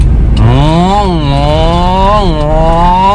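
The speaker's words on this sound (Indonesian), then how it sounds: "suara raungan mesinnya meraung-raung" A Toyota Kijang LGX engine roars steadily and loudly up close, its pitch climbing and falling as the throttle is worked, no voices over it.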